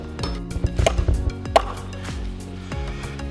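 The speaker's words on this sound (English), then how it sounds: "the gentleman to the right is chopping out a tree branch, tree root." Sharp, irregular chopping thuds as a tool hacks out a tree root at an inground fiberglass pool construction site, several close strikes with scattered knocks in between.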